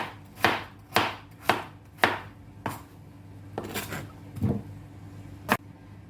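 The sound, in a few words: knife chopping carrots into small cubes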